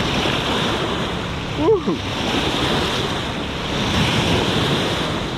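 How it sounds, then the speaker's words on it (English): Waves from a passing ship's wake surge up onto the shore at a catfish fishing spot, a loud continuous wash of surf mixed with wind buffeting the microphone, with a brief excited shout from someone near the water. "These wakes could come right up and give you wet feet."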